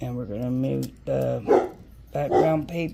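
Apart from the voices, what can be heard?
dogs barking, a puppy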